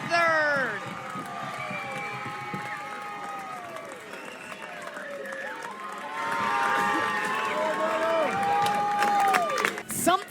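A crowd at a UCLA softball game cheers after a home run, a broad sustained roar with whistles, swelling toward the end under an announcer's talk.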